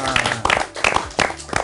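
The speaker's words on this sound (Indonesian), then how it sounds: "Oke, tepuk tangan dulu dong buat kalian." A group of schoolchildren claps hands in a classroom, with uneven bursts of clapping mixed with voices, close and loud.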